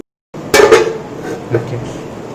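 Chicken biryani being mixed in a pot, with a couple of loud metallic clanks of a ladle against the vessel followed by softer scrapes and knocks, close by with no talking.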